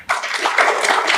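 An audience breaks into a dense burst of clapping on cue during a speech, starting abruptly and holding steady for about a second.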